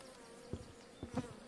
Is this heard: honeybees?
yes